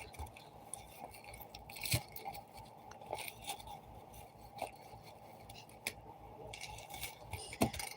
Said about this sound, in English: let me just shuffle these black cards real quick